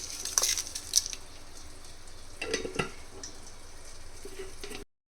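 Onions, cumin, mustard seeds, dried red chillies and curry leaves frying in plenty of oil for a Nellore fish curry, giving a steady soft sizzle with a few sharp clinks and stirring scrapes.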